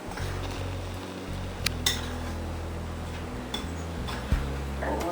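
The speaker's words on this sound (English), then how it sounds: "We have 2 tablespoons of sugar, and we'll just kind of mix those together." Baking powder and sugar stirred together in a mixing bowl for elephant ears, with light clinks and scrapes of a utensil against the bowl over a steady low hum, no talking.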